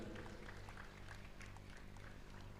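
Applause from an audience at a religious discourse gathering in Chandigarh, a steady, soft patter of many hands clapping together for the whole stretch, fairly distant and low in level.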